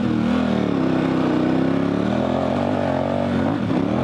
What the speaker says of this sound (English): So now we're second gear, pinned open